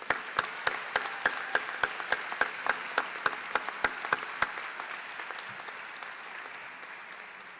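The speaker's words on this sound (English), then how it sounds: "Will everyone please join me in applause to congratulate those who received awards?" Sharp, evenly spaced claps ring out at a graduation ceremony for award recipients, about twenty distinct hits over four seconds, then fading into a soft wash of distant clapping.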